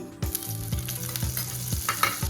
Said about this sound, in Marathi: लसूण आपल्याला छान असा परतून घ्यायचा आहे